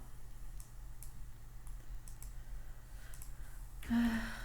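Someone types on a computer keyboard during a programming lesson, a sparse series of soft key clicks over a steady low hum, with a louder rustle or breath near the end.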